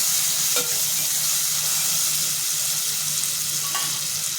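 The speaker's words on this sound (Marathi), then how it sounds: "जी चणा डाळ आहे आपण भिजत ठेवलेली ती टाकून घ्यायची आणि मिक्स करायचे छान" Soaked chana dal frying and sizzling in a hot pan for a padwal bhaji, with steady broadband hiss and a couple of faint clinks from stirring, close and continuous.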